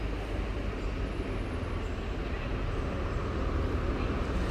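An HST train pulls into Sheffield station with a loud, continuous low rumble and engine drone that holds steady throughout, with no clear break or change.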